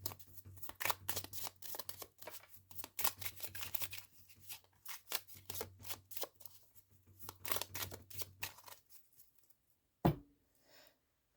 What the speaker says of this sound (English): Now I will pull one card from the Dreaming Way Lenormand cards